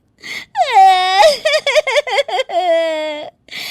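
A woman wails and sobs loudly in a dramatized story, her crying rising and falling in long moaning cries broken by short choked sobs, close and alone with no other talk.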